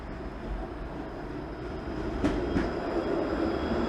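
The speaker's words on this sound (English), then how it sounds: "There goes 504 streetcar" A Toronto 504 streetcar rolls by on a city street, its steady rumble and rail noise building slightly, with a couple of brief metallic clicks or squeals partway through and no talking.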